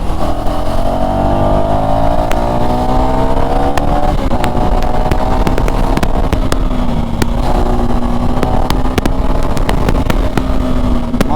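A 2024 KTM Duke 390 accelerates hard in third gear, its engine note climbing steadily with a brief dip partway through, loud and close under constant wind rush, with no talk.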